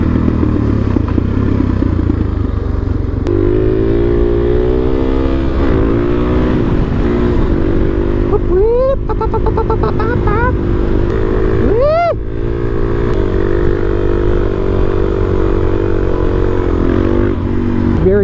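A motorcycle ridden on the road with its engine droning steadily, broken by several sharp throttle revs that climb and fall in pitch, close and loud over constant wind rush.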